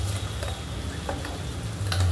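Onion-tomato paste fries with a cumin, garlic and ginger masala for a surmai fish curry, close sizzling with the soft scrape of stirring in the pan.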